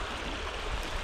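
A clear-water brook holding small trout flows in a steady, even rush with no breaks, quiet and close, with no voices over it.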